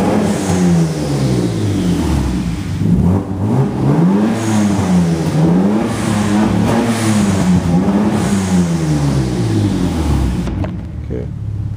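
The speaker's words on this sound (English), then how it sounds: "I'm just gonna rev it up a little bit." A car engine is revved repeatedly with the car parked, rising and falling in smooth waves of pitch, loud and close, then settling back toward idle at the end, with someone talking over it.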